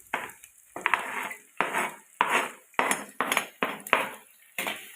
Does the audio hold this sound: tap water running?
no